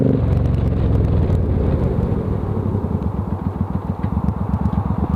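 A 2005 Suzuki motorcycle rumbles through a test ride, its engine note steady, then slowing into a rhythmic low chugging as the bike brakes hard, with no tyre squeal.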